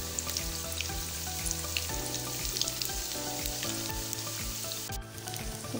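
Crispy lachhedar pakoras with kasuri methi fry in hot oil, making a continuous close sizzle with light crackling under quiet background music and no talking.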